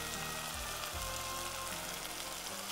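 Tomatoes with coriander powder, chili powder and turmeric sauté over a high flame while being stirred nonstop. A faint, steady sizzle sits under a low, droning background.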